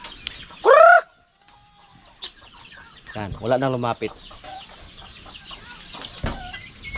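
Farm chickens, from a flock that has lost many birds, cluck and call in short bursts close by around feeding time, with someone speaking briefly among them.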